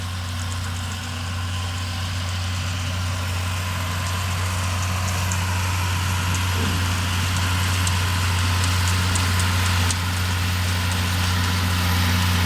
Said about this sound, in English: That's a nice old tractor right there.